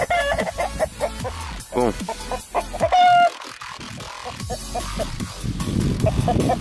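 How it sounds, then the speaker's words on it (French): Several chickens cluck and squawk close by in a busy, irregular chorus, with a short spoken word among them. "c'est les poules."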